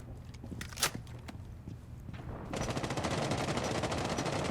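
Video game gunfire with a shotgun blast among several sharp shots in the first half, then a dense, loud, sustained burst of rapid fire that runs to the end. No talk.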